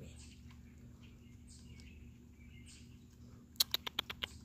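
Pet chipmunks chirping indoors, a few faint chirps early on, then a quick burst of five or six sharp, close chirps near the end over a low background hum.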